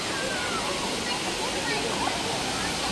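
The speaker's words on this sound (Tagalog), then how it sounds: "Ayan guys, running water." Mimbalot Falls waterfall in Iligan pours with a loud, steady rush of running water, dense and continuous at close range.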